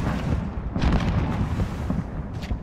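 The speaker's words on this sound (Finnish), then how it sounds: "Nyt ammutaan tossa pihalla." Gunfire and explosive booms in Call of Duty Warzone, heavy low thumps in a rolling cluster of bursts with a couple of sharper cracks near the end, loud and unbroken by talk.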